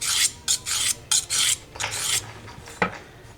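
A steel blade with a damaged edge is being sharpened on a 400 grit diamond stone: a run of short, irregular, gritty scraping strokes, close and alone.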